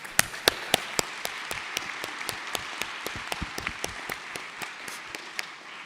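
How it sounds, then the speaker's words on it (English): An audience at a conference applauds the panelists and moderator, a steady wash of clapping with distinct louder individual claps standing out in an uneven rhythm, moderately distant and with no speech over it. "let's please give our panelists and moderator a round of applause"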